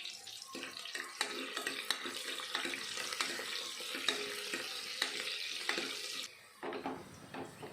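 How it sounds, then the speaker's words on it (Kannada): Finely chopped onions fry in oil with popped mustard seeds, making a continuous crackling sizzle with irregular stirring clicks that briefly drops lower near the end. "ಸಣ್ಣದಾಗಿ ಹೆಚ್ಚಿಟ್ಕೊಂಡಿರೋ ಈರುಳ್ಳಿ ಹಾಕಿ ಎಣ್ಣೆಯಲ್ಲಿ ಸ್ವಲ್ಪ ಫ್ರೈ ಮಾಡ್ಕೊಬೇಕು."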